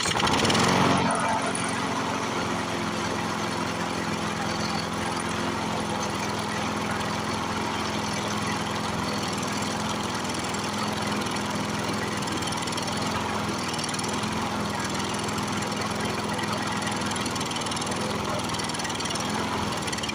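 A Briggs & Stratton 6.0 hp small engine with a sticking, varnished carburetor needle valve runs steadily nearby, a continuous loud buzzing drone after a brief louder start.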